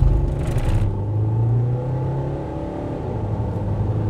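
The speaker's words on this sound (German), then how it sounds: "Jetzt beschleunige ich mal durch." A 2020 Volkswagen T6.1 California Ocean van with a 199 PS engine and front-wheel drive accelerates hard from inside, its engine droning low and steady with a rising hum under a constant road rumble.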